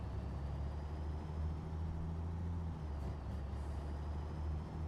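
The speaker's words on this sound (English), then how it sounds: "we'll drive listening to the sound of the truck" A low truck engine in a construction simulator video game idles steadily and quietly, with a short hiss of air brakes releasing partway through.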